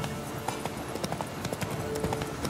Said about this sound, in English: Roach, stop running away, you ridiculous horse